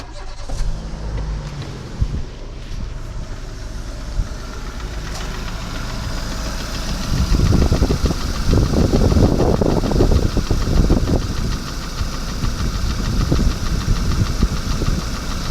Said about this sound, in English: My mate tells me he's got noisy tappets in his car.